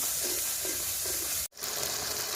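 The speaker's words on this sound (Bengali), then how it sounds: "কাঁচা লঙ্কা শুকনো লঙ্কা একসঙ্গে বাটা সামান্য একটু নারকেলের দুধ খুব ভালো করে কষিয়ে নেব মশলা" Green and dry chilli paste with a little coconut milk sizzles as it is sautéed in a pan, a steady soft frying hiss with a brief dropout midway, close, no voices.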